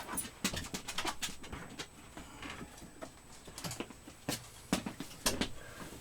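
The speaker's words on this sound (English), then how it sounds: "Somebody quiet the dogs." Dogs pant in quick, uneven bursts of breath, with faint whimpers mixed in, close by in a quiet indoor room and with no talking.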